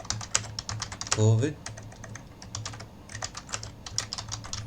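Brisk typing on a computer keyboard while a label is entered in Google Data Studio, the rapid close clicks running throughout beneath a speaking voice.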